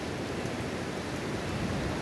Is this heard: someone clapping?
no